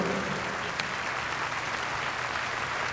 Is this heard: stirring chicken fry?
no